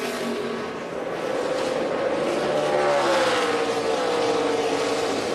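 NASCAR Xfinity Series stock cars roar around Charlotte, a loud sustained engine drone with rising pitch as the pack races through the final corners, steady and close throughout.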